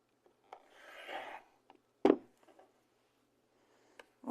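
Fabric for a quilt block is trimmed with a rotary cutter along a ruler, a soft rubbing swipe followed by a sharp close cutting snap and a few faint handling taps.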